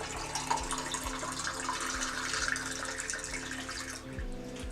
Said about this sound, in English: we'll add some half a liter of hot water